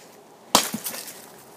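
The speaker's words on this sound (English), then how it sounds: "we're just going to hit this cinder block and see what it does." A hammer attachment, with the flail removed from its end, strikes a cinder block once with a sharp, loud crack, followed by a brief scatter of breaking and crumbling debris.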